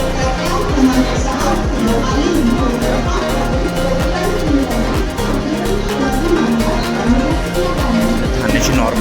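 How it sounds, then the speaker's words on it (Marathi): Heavy rush-hour crowd noise at Thane railway station, a loud continuous babble of many voices mixed with rhythmic train rumble and clatter, close and unbroken. "ठाण्याची नॉर्मल गर्दी"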